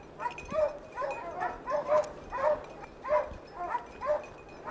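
Hounds bay repeatedly in a rhythmic chorus while on a hunting trail, their drawn-out howling barks echoing from a middle distance over outdoor background noise.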